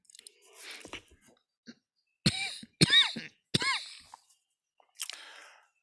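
A man coughs several times in a hoarse burst, with a few sharp barking coughs close to the microphone followed by a lighter throat-clearing cough, separated by short quiet gaps.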